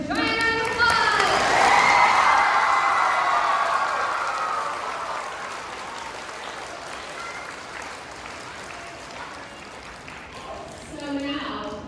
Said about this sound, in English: Let's give all our Virtue Award winners a giant round of applause!